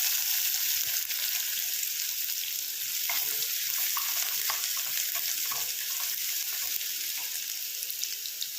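Chopped onion drops into hot oil where mustard seeds have already spluttered, for a simple bottle gourd stir-fry, giving a steady close sizzle with small crackles and pops scattered throughout.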